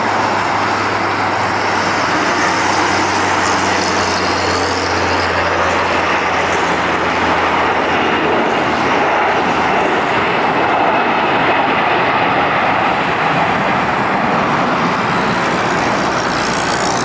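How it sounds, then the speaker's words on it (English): An AirX Airbus A340 airliner takes off and barely clears the end of the runway, its jet engines roaring loudly and continuously throughout with a broad, steady rumble and no talk. "this AirX Airbus A340 that barely managed to take off before the end of the runway"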